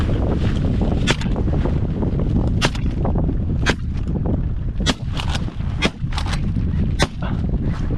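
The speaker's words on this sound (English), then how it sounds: "I shot 2 of them." Shotgun blasts during a duck and snow goose hunt in a North Dakota snowstorm, several sharp reports spaced irregularly over steady heavy wind noise, fairly close.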